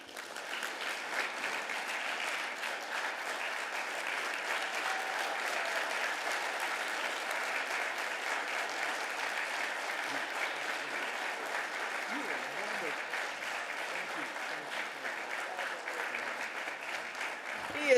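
Sustained audience applause at a Hall of Fame ceremony in Atlanta, a broad, even roar of many hands clapping that runs unbroken for the whole stretch, with faint crowd murmur and a voice rising at the very end.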